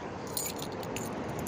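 A set of keys jangles faintly as it is pulled from a pocket, a brief light metallic rattle with no talk.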